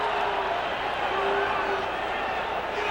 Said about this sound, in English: The crowd immensely enthusiastic